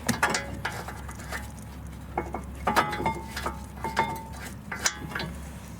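Small metallic ratcheting clicks and taps from a bolt being tightened on a Volvo XC front brake caliper, coming in quick, uneven bursts, close but fairly quiet.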